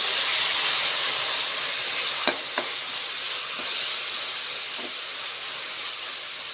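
Cabbage fries in a pan for fried rice with a constant hissing sizzle, punctuated by a few sharp scraping taps from stirring, close up and without any talking.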